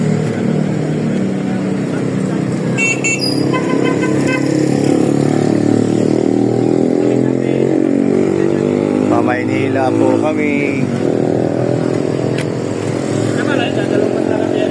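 A motorized tricycle at a terminal in Daet runs with a loud, steady engine drone that stays close throughout, while people talk over it.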